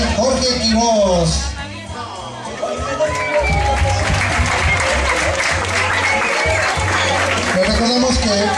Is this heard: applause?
yes